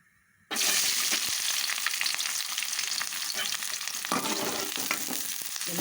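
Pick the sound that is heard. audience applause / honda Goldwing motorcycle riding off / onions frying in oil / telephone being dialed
onions frying in oil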